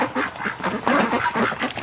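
Ducks kept for breeding quack and honk close by in cold weather, several birds calling in a quick overlapping series of loud rasping calls.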